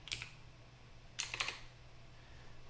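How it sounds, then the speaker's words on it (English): Faint keystrokes on a Windows computer keyboard: a quick tap, then a short burst of several clicks after a pause, over a low steady hum. "type in Edge."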